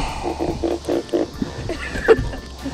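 A fish caught on a trotline makes a run of short grunting croaks in a rhythmic pulse, followed by a louder single croak, close and fairly faint against outdoor background noise.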